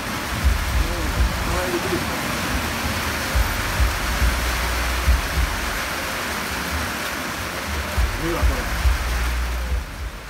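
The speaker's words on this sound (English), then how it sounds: "It's really raining." Heavy night rain pours in a steady, dense hiss at a night out in Ghana, with low thuds and rumbles under it and people speaking quietly in the background.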